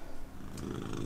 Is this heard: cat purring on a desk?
yes